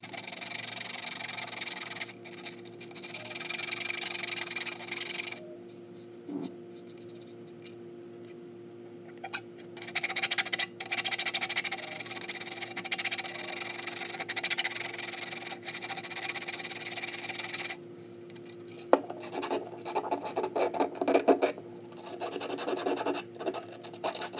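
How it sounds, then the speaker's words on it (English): Repeated rubbing and rasping of sandpaper removing burrs from a 3D-printed drum magazine part, in bursts of scraping strokes separated by brief pauses, close and steady. "Get our sanding paper and remove the burrs."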